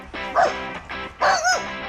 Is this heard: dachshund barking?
yes